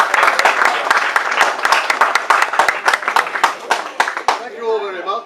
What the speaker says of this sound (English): would you give a nice round of applause to Jeff?